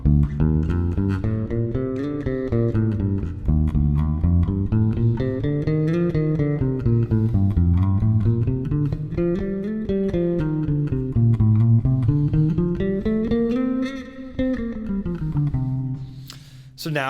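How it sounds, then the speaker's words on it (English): An electric guitar plays a C Dorian scale pattern in a steady run of single notes that climbs and falls in waves while moving up the fretboard, close and even, with no talk over it. "now we're playing C Dorian all the way up the fretboard without any extra work"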